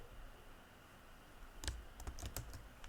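A computer keyboard clacks as Python code is typed, a short burst of quick keystrokes following a quiet pause, faint and close in a still room.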